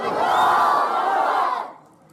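A large crowd at a political rally roars back the Naara-e-Takbeer slogan response, one loud sustained collective shout lasting under two seconds before cutting off.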